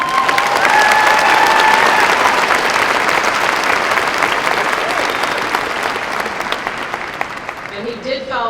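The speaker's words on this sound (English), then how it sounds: "Another round of applause for that." Loud applause from a large crowd at a high school graduation ceremony, with dense clapping and some cheering that gradually fades over about eight seconds as a few voices come through near the end.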